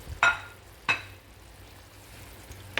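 Mussels simmer in garlic butter in a pan. Soft sizzling bubbles along under a few sharp clinks and scrapes of stirring, spaced roughly half a second to two seconds apart.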